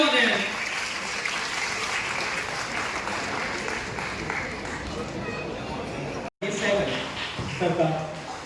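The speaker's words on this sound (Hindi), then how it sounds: "एक बार जोरदार तालियां हो जाए।" An audience at a public event in Varanasi breaks into sustained applause, a dense steady wash of many hands clapping with crowd chatter mixed in, briefly cutting out before resuming.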